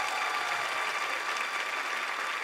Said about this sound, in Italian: ho capito che questo qui è un applauso un po' in circostanza